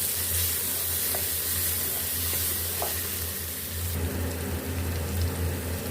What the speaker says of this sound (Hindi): अब इसमें लहसुन, अदरक और ये हरी मिर्च कुटी वो डाल लेंगे। इसको भी हम फ्राई कर लेंगे।